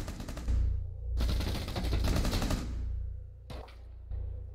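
Loud, close bursts of submachine gun fire in Rainbow Six Siege, two long sustained strings of rapid shots followed by a short final burst, with no one speaking.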